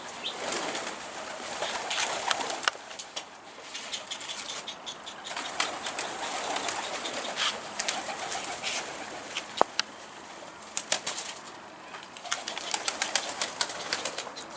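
Pigeons around a rooftop racing-pigeon coop give soft coos and bursts of wing flapping, with scattered sharp flutters and taps over a quiet outdoor background, fairly faint and without speech.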